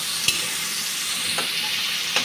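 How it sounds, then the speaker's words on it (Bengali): Onions, with green chillies and salt, fry in darkened oil in a pan, a continuous close sizzle with a few sharp spatula clicks against the metal. "পেঁয়াজটা ভালোভাবে ভাজা হয়ে গেছে।"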